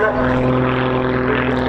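Pitts Special aerobatic biplane engine at the RAF Cosford air show: a loud, steady droning propeller buzz with strong harmonic tones, held without break for under two seconds and likely mixed with a commentator's voice.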